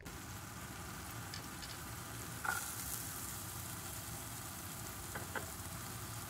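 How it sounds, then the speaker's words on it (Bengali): Onion and garlic frying in oil in a pan, a steady soft sizzle running throughout with a brief louder crackle and stir near the middle and a few small pops later. "তেলের মধ্যেই একটু পেঁয়াজ আর রসুন দিয়ে দিলাম, হালকা করে ভাজা ভাজা করে নেব"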